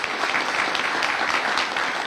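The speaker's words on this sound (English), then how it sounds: "How about a big round of applause for their great work?" A crowd at an outdoor groundbreaking ceremony for the San Luis, Arizona land port of entry applauds after a performance of the U.S. and Mexican national anthems, a dense, steady wash of clapping from many hands that holds throughout.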